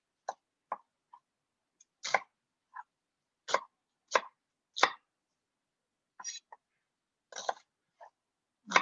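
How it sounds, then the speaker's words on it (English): Red onion being chopped into large cubes with a knife on a board, a series of sharp separate knocks at an irregular rhythm with quiet gaps between them, close and fairly soft, no talking. "now I'm going to chop my onion into"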